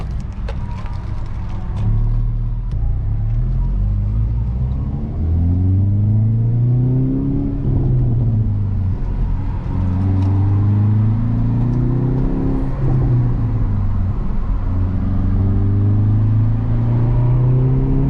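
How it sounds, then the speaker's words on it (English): A 2021 Hyundai Veloster N engine revving and accelerating from inside the car, repeated rising and falling engine tones through the gears, loud and close, with a few sharp crackles early on. "So this thing is insanely loud. The backfires are fucking crazy."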